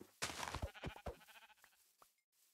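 Sheep in Minecraft bleat in a few short, close bursts, followed by quieter thuds and then near silence.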